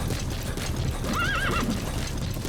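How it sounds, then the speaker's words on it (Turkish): A horse in a video game, Metal Gear Solid 5, whinnies briefly in a wavering neigh over a dense, noisy background, with clip-clopping hooves around it. "Atı çağıralım."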